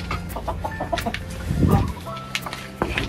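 Hens clucking on a farm, several soft, irregular clucks and short calls nearby, with a brief louder rustle in the middle.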